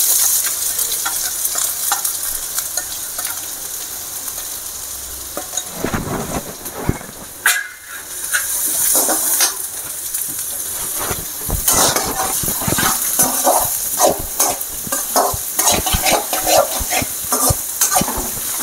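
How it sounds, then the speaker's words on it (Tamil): Onions and garlic sautéing in a pan for apple rasam, a loud hissing sizzle that swells after a quieter start, with frequent close stirring scrapes and a brief lull midway. "அது கூடவே இந்த வெங்காயம், இதையும் நம்ம நல்லா வதக்கிக்கலாம்."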